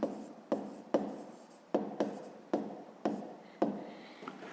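A pen writes out the answer to a fifth-grade maths exercise in quiet, regular scratching strokes, about eight short bursts, each fading before the next.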